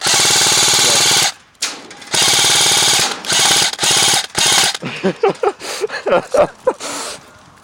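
An ICS CXP 323 airsoft gun with a stock Neo magnet motor fires in loud full-auto bursts during outdoor gameplay, the gearbox rattling fast and close, then breaking into short choppy bursts and single shots.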